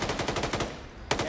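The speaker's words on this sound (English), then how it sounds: "And Nekomata tries pre-firing the corner" Automatic gunfire from a first-person shooter PvP match: rapid bursts of loud, close shots, a brief gap, then firing resumes.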